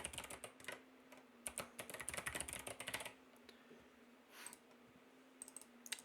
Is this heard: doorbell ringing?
no